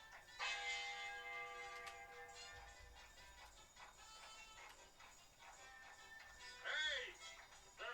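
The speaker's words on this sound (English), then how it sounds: "bell's ringing at the same time, so they actually can't hear it" A church bell rings with a long ringing tone that lingers, while people talk over it.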